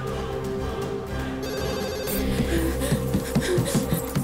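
A telephone rings repeatedly in a Hindi-dubbed South Indian action film scene. The bell sounds in rhythmic bursts over a busy background of music and effects.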